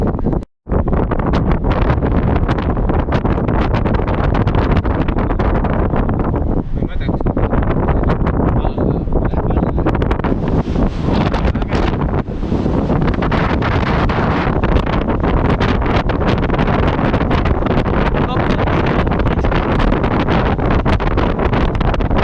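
Wind blows hard across the deck of a large ship, a loud continuous buffeting roar against the microphone with gusting surges, while a person speaks faintly beneath it.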